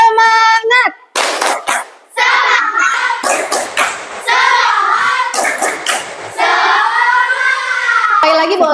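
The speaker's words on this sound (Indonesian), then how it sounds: "Ya, tepuk semangat." A primary school class performs the rhythmic 'tepuk semangat' spirit clap, with bursts of patterned hand claps mixed with children's chanting and a teacher's voice throughout.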